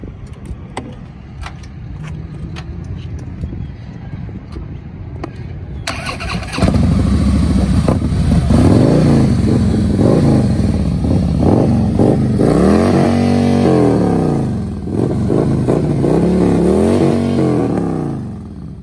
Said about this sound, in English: can we hear this beast roar a little bit?